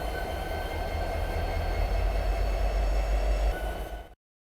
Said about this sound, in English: Watch the train ahead pull forward and how the signal change as a result.